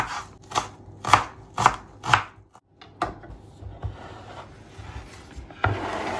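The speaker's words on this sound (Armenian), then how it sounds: "մանր կտրատած սոխ, սոխը փորձում եմ կտրատել բարակ, ահա այսպես" Onion being thinly sliced with a knife on a board while making meatballs: several crisp, evenly spaced chops, loud and close, then a run of lighter cuts against quiet kitchen background.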